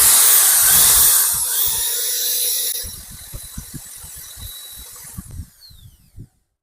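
A drill-powered wood lathe whirs with a bright, gritty hiss as sandpaper smooths the turning wood for a few seconds, then quiets to a string of soft, irregular knocks before stopping.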